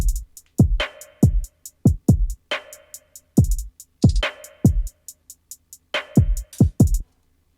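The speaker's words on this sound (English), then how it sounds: "So altogether, after the drop, the drums sound like this." An indie-style electronic drum pattern with snare and filtered hi-hat plays alone: punchy kicks and snare hits land in a repeating groove, with soft, muted hi-hat ticks running steadily over about seven seconds.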